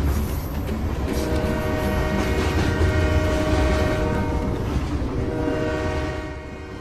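A train rumbles past nearby, its horn sounding a long sustained tone over the rolling clatter before the noise eases off.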